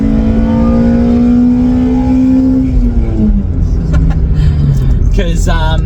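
Toyota Altezza engine heard from inside the car, a loud steady drone that climbs slightly and then drops in pitch as it eases off, with a voice speaking over the end.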